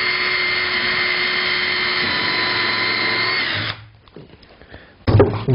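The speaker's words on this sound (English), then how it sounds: "And these I'm just going to screw in place." A cordless drill drives screws into exterior plywood roof boards on a chicken coop, a loud continuous whirring burst lasting several seconds that stops abruptly, followed by a brief pause and a short second burst.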